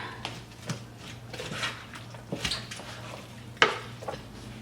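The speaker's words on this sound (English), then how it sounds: "We're going to give it a stir." Shrimp ceviche stirred in a bowl, with soft scraping and a few light clinks of a utensil against the bowl, intermittent and close over a quiet background.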